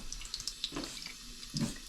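Water sprays and patters in short bursts close by, with light splashes and drips between them.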